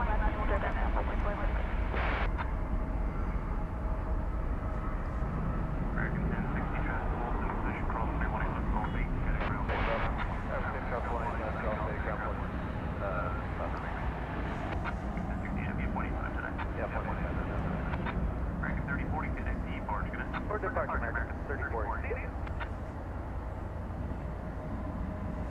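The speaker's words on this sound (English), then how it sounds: "What we saw taking off was American 3040, Airbus A321 to Oklahoma City" An American Airlines Airbus A321 takes off at DFW Airport at night, a steady broad jet roar carrying on for the whole stretch at a distance, with talk over it.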